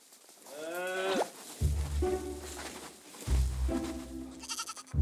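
A herd of goats turned out to graze on a wide field in Cheorwon, Gangwon Province, bleating repeatedly in wavering calls, several voices overlapping near and loud, with occasional thuds and rustle between cries.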